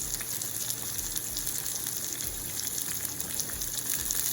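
Coconut curry salmon sears in a hot pan, giving a steady, dense sizzle that stays close and even throughout with no voices.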